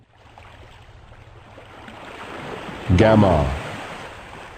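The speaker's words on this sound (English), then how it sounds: "all we hear are the sounds of the ocean waves" Gentle ocean waves wash steadily in the Sonic Adventure video game, a soft swelling surf that grows louder toward the end, with a single robotic voice speaking briefly over it.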